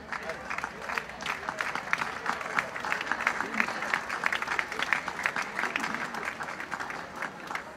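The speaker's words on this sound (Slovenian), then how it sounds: "Dajmo kar en aplavz." Crowd at an outdoor Slovenian Armed Forces band charity concert breaks into sustained applause, a fairly distant, even patter of many hands with a voice speaking faintly over it.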